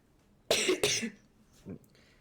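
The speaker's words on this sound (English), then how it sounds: "having a secondary conversation through coughs" Two sharp, close coughs in quick succession from a person, followed by a softer third cough, in an otherwise quiet room.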